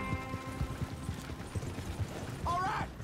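Horse hooves clip-clop in a quick, uneven rhythm in the video game Red Dead Redemption II, close and moderately loud, with mechanical rattling and a short higher cry near the end.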